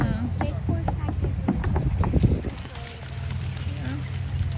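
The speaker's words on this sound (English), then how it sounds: "Here comes the horsey." Miniature horse hooves clip-clop on a farm in Ronks, Pennsylvania, a quick run of distinct knocks in the first half under wind noise and nearby voices, then fading away.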